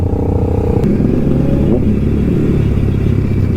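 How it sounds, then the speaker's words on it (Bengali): Loud, throaty superbike engines with full-system exhausts, including a Benelli and a ZX-10R, rumble and rev up close on a Kolkata road, a deep continuous roar with a sharp clatter near the start. "প্রত্যেকটা বাইকে এক্সজস্ট ফুল সিস্টেম, আলাদা সাউন্ড আজকে রোডে।"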